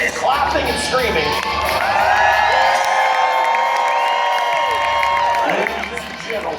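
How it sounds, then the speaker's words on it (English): At a racing event a crowd claps and screams, cheers and whoops rising together in a loud sustained burst while a voice shouts over the noise. "everybody else is clapping and screaming"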